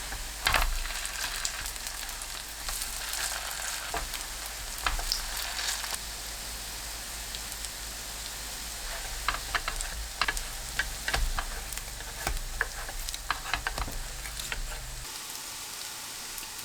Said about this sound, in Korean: 중불로 낮추고 반죽을 둥글납작하게 올립니다.